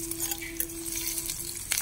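Onion and green chili frying in a pan with a little salt give a close, steady sizzle with light stirring scrapes and a faint hum under it, and no talk.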